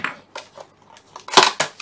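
Packing tape being peeled off the packaging of a Sony PlayStation Move controller: a quick series of close, crackling rips and tearing bursts, the last ones loudest, with no talk.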